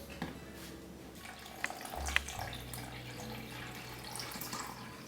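Warm water runs from a tap into a measuring cup while bread dough is being made, a soft steady trickle with a few faint clinks, quiet and close in a home kitchen.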